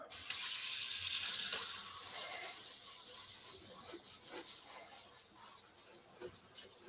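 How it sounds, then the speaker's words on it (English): Tap water runs steadily into a kitchen sink to rinse a cheese-making strainer, a continuous bright hissing splash that holds for several seconds, close and fairly loud, with no talk over it. "I need to clean off my strainer."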